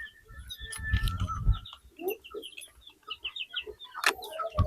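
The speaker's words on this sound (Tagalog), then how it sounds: "May dala tayong chicken na manok dito." Chickens cluck and squawk nearby in short, irregular bursts, with some rustling in between.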